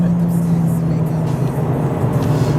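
A 2020 Mercedes-AMG CLA 45 with a turbocharged four-cylinder accelerates hard, its engine droning loudly and steadily with a strong low hum throughout, heard close from inside or beside the car.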